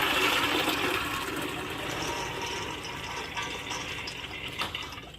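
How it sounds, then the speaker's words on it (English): Soaking water pours steadily off a pot of black beans, a continuous close splashing gush with a faint clink near the end. "what we're going to do is pour the water off of our beans"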